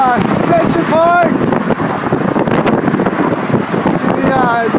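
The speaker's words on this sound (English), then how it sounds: "It's so windy up here." Strong wind buffets the microphone on the suspension span of a high bridge, a constant loud rushing roar, with a person's voice heard briefly.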